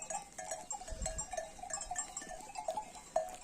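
A flock of sheep bleat, several overlapping calls at a moderate distance, with a faint metallic clink of bells in the background.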